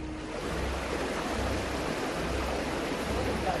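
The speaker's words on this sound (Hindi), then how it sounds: "पश्चिमी चंपारण में पानी का बहाव कितनी तेज है, उसे आप उसकी आवाज सुनकर ही समझ सकते हैं।" Fast-flowing floodwater in West Champaran, Bihar gives off a constant, dense rushing roar that holds steady without a break, with no voices.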